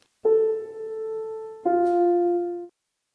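Piano right hand playing quarter notes from a beginner piece: two sustained notes, each struck cleanly and left ringing about a second and a half, close and clear with no talking.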